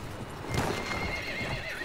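In the online war game Battlefield 1, a horse whinnies over a steady, fairly loud stream of clip-clopping hooves and busy battlefield ambience.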